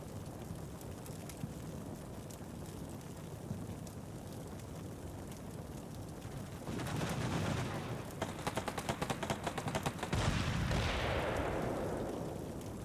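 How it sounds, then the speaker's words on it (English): Tank main gun and machine-gun fire in the video game Combat Mission Shock Force 2, with T-55 tanks engaging Leopards, heard as a low background rumble that swells into dense rattling bursts and booms in the second half. "This tank is still firing."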